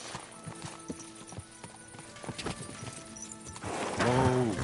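Horse hooves thudding in the video game Kingdom Come Deliverance II, irregular close steps building up before a loud whinny rises near the end.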